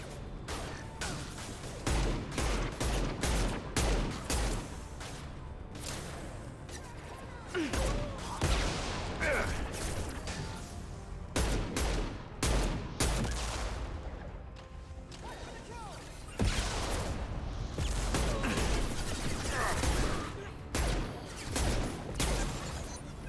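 A firefight in the video game Mass Effect 2 sounds as sharp bursts of gunfire, with repeated cracks and volleys coming in clusters. The shots are loud and close, and the combat noise underneath never stops.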